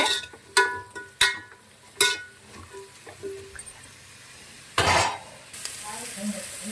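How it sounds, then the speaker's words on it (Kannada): Radish frying in hot oil for a sambar, a faint sizzle under several sharp knocks of a spoon or ladle against the pan, with a louder burst of stirring and scraping near the end. "ಚೆನ್ನಾಗಿ 1-2 ನಿಮಿಷ ಫ್ರೈ ಮಾಡಿ"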